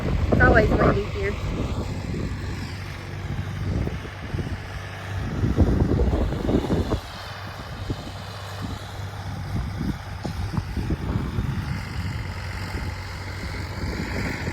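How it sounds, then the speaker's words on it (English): Wind buffets the microphone in low, rumbling gusts in a vegetable garden, heavier at some moments than others, with a person speaking intermittently underneath. "Sorry, it's windy. It's always windy here."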